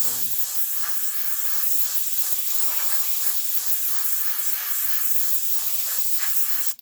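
A cheap airbrush spraying water at about 50 psi, a steady, fairly loud airy hiss that holds continuously for several seconds before cutting off abruptly at the end, no voices over it.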